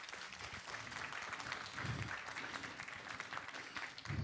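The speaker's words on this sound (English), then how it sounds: "One more round of applause." At a jazz association mental-wellness event in Singapore, a hall audience gives a dense, continuous round of applause. It sounds fairly distant and soft but steady throughout.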